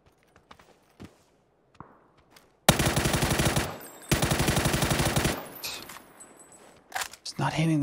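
Automatic gunfire in the battle royale game PUBG rattles out in two long rapid bursts at close range, followed by quieter shots, footsteps and a player talking.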